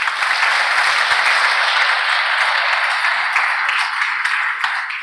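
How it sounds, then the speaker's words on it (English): Sustained, loud, even applause from a conference audience at a PHP meetup, thanking the lecturers, steady throughout with no talking over it. "Can I get an applause for all of them?"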